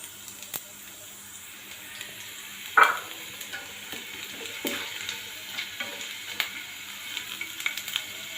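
Onion and black cumin seeds frying in a pan for a mango pickle, a soft continuous sizzle broken by scattered sharper crackles and a couple of louder stirring clatters.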